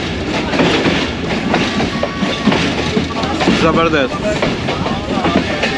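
A train on the Narowal branch line runs steadily along the railway track with a continuous rolling rumble and faint clatter, while someone talks briefly over it nearby.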